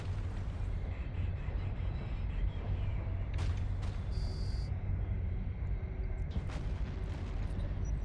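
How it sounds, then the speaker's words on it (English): A big explosion goes off in the EVE video game, a loud, sustained booming rumble that fills the whole stretch, with sharp bursts cutting through partway and no talking over it. "I think we're going to get a big explosion over there, chat."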